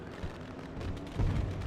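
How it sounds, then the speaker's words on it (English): Fireworks at Bristol Motor Speedway after a truck race, low rumbling booms and bursts heard at a distance, dull and steady, with a stronger thump near the end. "There's the And- fireworks."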